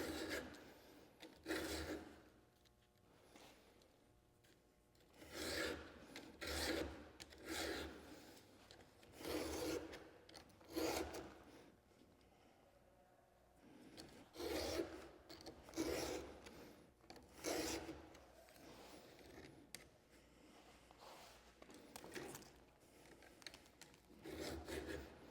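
Close, faint rasping of a hand file sharpening a Stihl MS462 chainsaw chain, in repeated short strokes grouped in runs with brief pauses between, with no talk.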